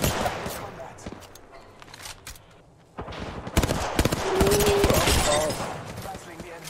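Automatic weapon fire in Apex Legends comes in rapid bursts, loud and close, broken by a short lull before another heavy volley, with in-game voices and effects mixed in.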